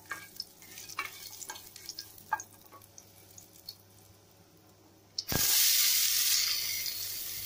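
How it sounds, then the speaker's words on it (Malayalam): Chopped onions with a pinch of salt sauté in a pan for a pressure-cooker veg biryani, starting with faint scattered clinks and scrapes before a loud, steady sizzle bursts in and holds near the end. "ഈ സവാളയൊക്കെ നല്ലതുപോലെ വഴറ്റിയെടുക്കണം."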